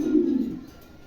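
A new adult pair of Dragon breed pigeons gives a single soft, low coo nearby, which fades within half a second into quiet room tone.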